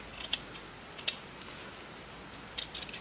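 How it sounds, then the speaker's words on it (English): Scissors cut through a piece of fabric in a few quiet, crisp snips spaced apart, with near silence between the cuts. "So we're going to cut this piece off."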